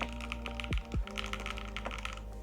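Someone types on a Matrix Noah V2 mechanical keyboard, producing a quick, irregular run of crisp clacks. A couple of deeper thunks break in near the start, and the keystrokes sound close with no talking.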